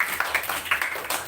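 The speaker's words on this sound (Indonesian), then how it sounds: "Itu tepuk tangan dulu untuk sesi yang kedua ini." Audience at a school student council (OSIS) candidate debate applauds, a brief burst of scattered hand claps with a few sharper individual claps standing out, moderately faint in a room.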